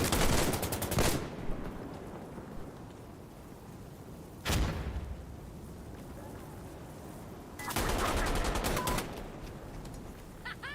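Gunshots in a video game: sharp rapid bursts of automatic fire at the start, a single loud crack in the middle and another quick burst later, separated by quieter rumbling background.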